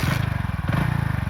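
A motorcycle engine that has just started and is idling nearby, with steady rapid low thumping pulses and a metallic clatter that stay loud through the whole stretch. There is no talking.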